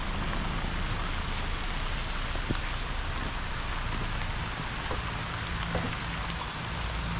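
Steady rain falls without a break, a dense, even hiss of drops that fills the whole stretch with no voices.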